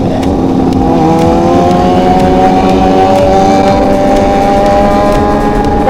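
A loud motorcycle engine roars continuously at close range with its silencer removed, its exhaust note rising and falling as it revs, with no pauses.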